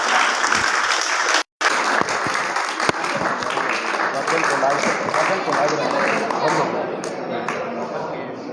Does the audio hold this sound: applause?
yes